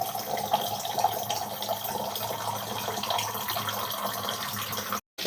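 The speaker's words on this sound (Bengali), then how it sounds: "আমার প্রথম সকালের কাজ হলো এই যে জল ভরতে দিয়েছি" Water running from a kitchen tap into a container to fill it, a soft continuous splashing rush that holds steady at moderate level before a brief cut near the end.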